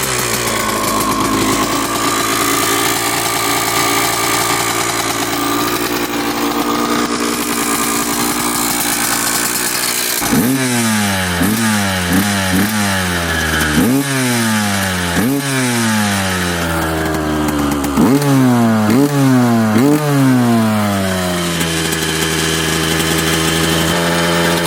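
A Yamaha Blaster ATV engine runs at a steady idle, then is revved repeatedly in sharp throttle blips that rise and fall, close to the microphone with no talking.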